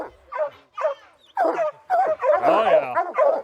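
Hunting dogs bark and yip at a treed bear in a Michigan woods, sending repeated sharp, excited calls, some whining, at close range. Someone briefly speaks.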